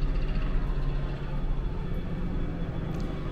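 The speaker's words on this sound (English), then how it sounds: "I don't know if you can hear that helicopter." A continuous low rumbling drone of a helicopter passing overhead near Disney Springs, Walt Disney World, fairly faint and steady, with no talking.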